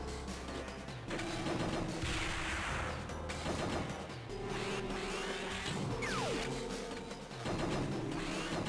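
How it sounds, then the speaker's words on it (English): Bursts of bullet fire in the Game Boy Advance game X-Men: The Official Game crackle faintly over looping game music, recurring every few seconds. "Oh no, bullets!"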